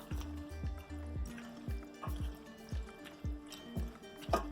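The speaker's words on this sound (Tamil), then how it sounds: "ஒரு 200லேருந்து 250 ml வரைக்கும் நீங்கள் தண்ணி ஊற்றிக்கிட்டா போதும்" Water pours into a pot of broad bean tomato curry in rhythmic glugs and drips, a quiet repeating splash pattern close by.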